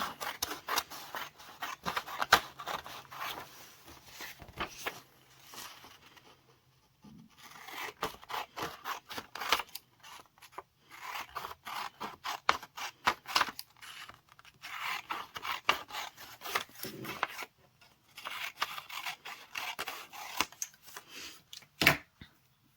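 Scissors snip through a printed sublimation design for a tote bag in a run of quick, close, quiet cuts broken by short pauses, with no talking.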